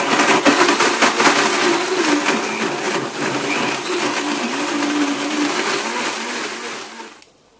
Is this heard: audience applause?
no